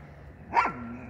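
A dog gives a single loud bark close by near a river in the countryside, standing out against quiet outdoor background noise.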